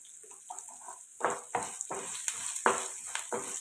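Ginger and curry leaves sauté in a pan for tomato-ginger chutney, with bursts of sizzling and stirring scrapes close by. The crackling comes in uneven surges over a steady background hiss.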